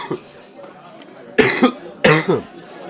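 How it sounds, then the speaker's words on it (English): Two sharp, harsh coughs from a sick person about half a second apart, fairly close and loud, with faint background noise around them. "I'm still coughing because I'm still sick."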